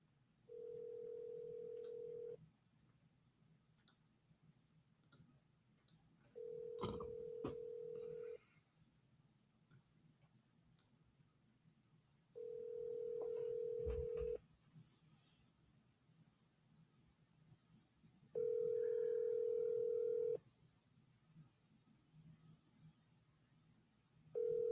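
An outgoing telephone call rings back: four steady, fairly quiet tones, each lasting about two seconds, come at regular intervals, with a low background hum between them.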